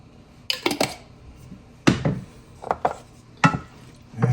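Spaghetti being stirred with sauce in a cooking pot, with several bursts of scraping and clinking from a utensil against the pot, separated by short pauses.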